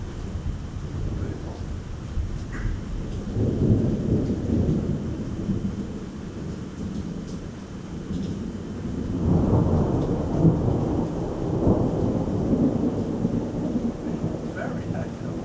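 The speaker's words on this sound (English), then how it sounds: "Lightning, thunder, rain." A very active night thunderstorm around a hotel on an island, with rain drumming steadily on a tin roof and metal guardrail while low rumbles of thunder swell and roll in two long waves.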